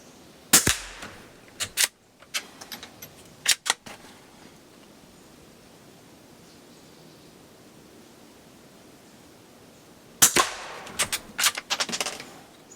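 A Citadel .22 Long Rifle carbine firing its first shots outdoors on private land, sharp cracks in an uneven series early, then a quiet pause, then a rapid cluster of shots.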